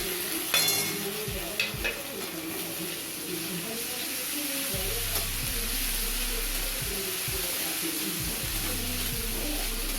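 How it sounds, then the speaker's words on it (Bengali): Ginger and cumin paste sizzles softly in a pan after fried onions, salt and turmeric, with a spatula stirring and scraping in irregular strokes throughout and faint speech in the background. "আদা জিরে বাটাটা একটুখানি ভাজা ভাজা মতো করে নিয়ে"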